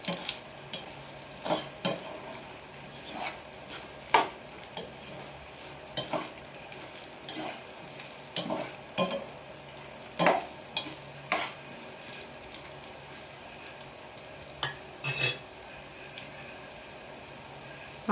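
Sprouts for a palya fry gently in a pan over a low flame, with a soft continuous sizzle broken by repeated scraping and clinking stirs of a spoon against the pan, close by.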